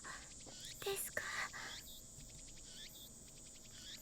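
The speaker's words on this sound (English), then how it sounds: "The only sound is the chirping of cicadas." Cicadas and crickets keep up a steady, layered chirping drone, loud and close, with a few brief soft rustles and a bird call mixed in near the start.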